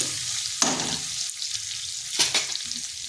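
Tomato paste fries in a pan for a vegetarian dish. A continuous sizzle is broken by two sharp clusters of spatula scrapes and stirring, close by, with no talking.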